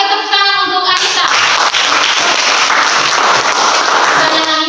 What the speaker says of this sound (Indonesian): Oke, tepuk tangan untuk Anita.